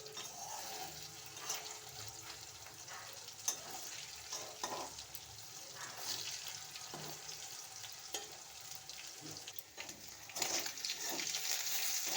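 Meat and fried potatoes sizzle together in a pan over a high gas flame, a steady crackling fry broken by scraping stirs, with no voices over it.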